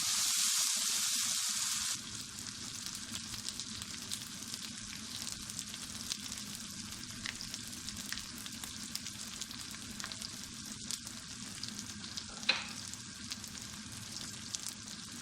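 Ginger and garlic sizzle lightly in hot oil for a goat roast, a steady close frying crackle after a brief louder hiss at the start.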